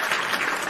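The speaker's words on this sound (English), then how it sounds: "Round of applause for Ray Phoenix." Brief burst of dense audience applause for Ray Phoenix during a live wrestling talk show, a steady loud wash of many hands clapping with no pause.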